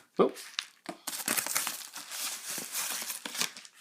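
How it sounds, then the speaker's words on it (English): Plastic wrapping crinkles and tears as a packaged XP Joy Box game controller adapter is unwrapped up close, a sharp opening rustle followed by continuous crackling handling. "I'll just unbox it, or unwrap it"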